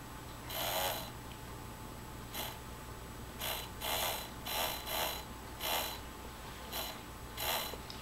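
A small gear-motor linear actuator, part of a solar tracker, runs in reverse after its polarity is switched, giving a series of short, close whirring and ratcheting bursts with brief pauses over a steady low hum.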